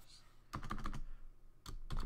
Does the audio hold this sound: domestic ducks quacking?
no